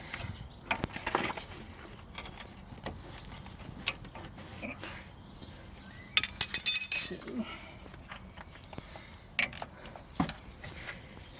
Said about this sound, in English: wrench in there to get to it.